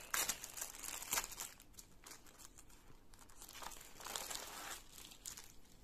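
Plastic packaging of a cross-stitch kit crinkles and tears as it is opened, close up, in several bursts of sharp rustling with quieter handling in between and no voices.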